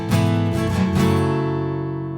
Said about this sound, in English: The song also includes a really cool walk down pattern that sounds like this.